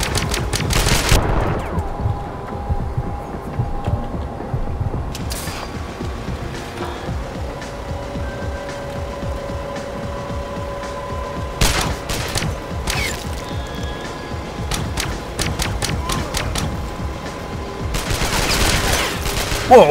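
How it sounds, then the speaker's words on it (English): Machine gun fire in Sniper Ghost Warrior, bursts of rapid shots clustered at the start, middle and end with quieter mechanical clicks and ambience between, a voice occasionally heard. "I should take my machine gun."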